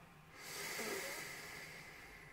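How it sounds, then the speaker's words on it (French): A single slow, deep inhalation through the nose during a guided evening breathing meditation, a soft airy hiss that swells after a brief silence and holds steady, close and quiet. "nous allons faire la première inspiration par le nez"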